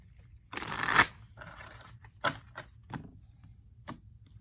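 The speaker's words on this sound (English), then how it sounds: "we're going to shuffle again" Tarot cards being shuffled by hand at close range: a loud riffling burst followed by several shorter, crisp card flicks and taps spaced out over a few seconds, against a quiet background.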